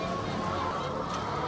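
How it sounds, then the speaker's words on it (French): A dense, continuous din of many battery-caged hens packed about ten to a cage with wire floors, clucking and calling together in a loud, steady wash of sound. "Les poules y sont enfermées pour leur vie entière."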